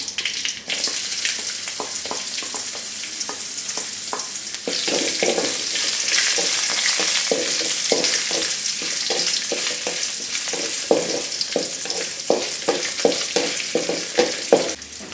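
Chopped ginger fries in hot oil for egg bhurji, a loud close sizzle with repeated rhythmic scrapes and taps of a spatula stirring in the pan.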